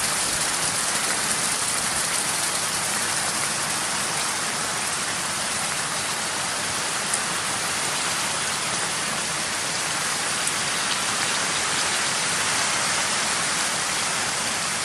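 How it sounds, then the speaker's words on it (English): Steady rain falls outdoors on a property with overflowing water tanks, a dense, even hiss of drops on surfaces that holds unbroken at moderate level throughout, with no voices. "I tell you what, we've had a lot of rain."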